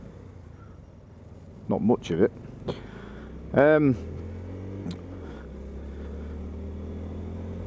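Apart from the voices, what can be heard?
Honda Grom motorcycle engine idling at traffic lights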